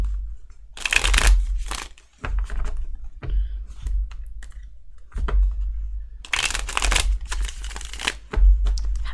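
A stiff tarot card deck, about a year old, being shuffled in several loud bursts of riffling card noise separated by short pauses, close up and alone.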